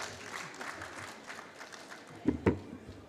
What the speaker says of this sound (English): Let's clap for him as he comes.